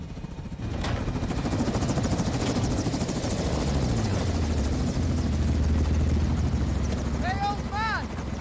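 Helicopter rotor and engine drone in a military shooter video game, a steady loud whir throughout with brief tonal effects near the end and no clear talk.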